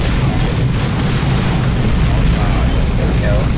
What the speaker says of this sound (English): The last frag grenade did in the job.